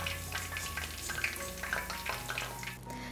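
Crispy onion pakoda mixed with green chillies, a steady close stirring and crackling with soft repeated scrapes and a faint frying hiss underneath.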